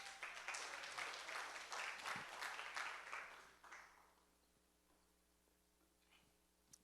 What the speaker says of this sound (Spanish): Dele un aplauso, Señor.